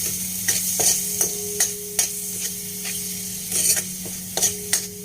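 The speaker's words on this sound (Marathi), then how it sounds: "आणि गूळ पावडर ऍड करणार आहोत, आणि परत एकदा चांगलं परतून घेणार आहोत।" Jaggery powder is stirred into a sizzling pan for sweet-sour moong dal, a soft steady fry punctuated by regular scraping strokes of a spoon, close and moderately quiet with no talk.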